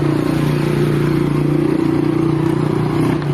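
A motorcycle engine runs steadily and loudly close by during a ride, a low droning hum with a rattling clatter layered over it, constant throughout with no talking.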